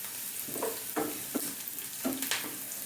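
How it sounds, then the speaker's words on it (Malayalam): Onions sautéing in a pan and being stirred, a steady close sizzle with scraping strokes of a spoon or spatula at irregular intervals, no talking. "അല്പം നേരം ഇളക്കണം, എങ്കിലേ സവാളയും ഒന്ന് വഴന്ന് കിട്ടുകയുള്ളൂ."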